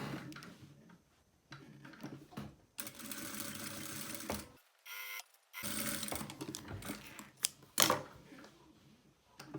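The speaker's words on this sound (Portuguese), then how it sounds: "a gente vai passar uma costurinha com o pé de máquina aqui" Sewing machine stitching a fabric lining onto a small pouch, close bursts of rapid mechanical whirring broken by short pauses and a few clicks.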